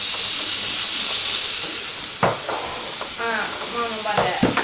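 Ground beef sizzling and hissing steadily in a frying pan for a mini pizza, with a few sharp utensil scrapes and stirring knocks breaking through the constant frying noise near the end.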